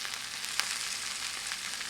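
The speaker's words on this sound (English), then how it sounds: "So I'm gonna let that saute down." Kale sautéing in a hot pan with a steady, bright sizzle that holds evenly throughout, one small pop near the middle, with no voices.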